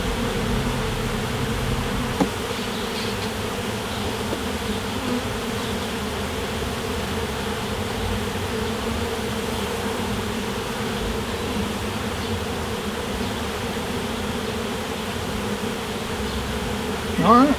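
Honey bees buzz steadily around an open hive during a June inspection, a dense continuous hum of many wings close by, with a brief bump partway through and a louder rustle at the end.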